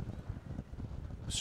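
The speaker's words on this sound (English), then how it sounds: "strong gust of wind." A strong gust of wind buffets the microphone at an outdoor women's premier division rugby match, a low rumbling roar with a brief sharp burst near the end.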